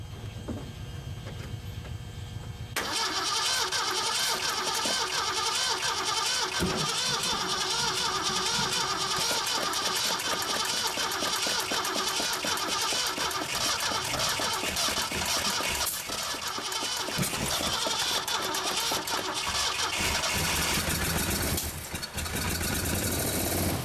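A 1974 Mercury Comet GT with the choke pulled makes a steady mid-to-low engine drone from a cold start after 14 years, running continuously and fairly close after a sudden start with no talk over it.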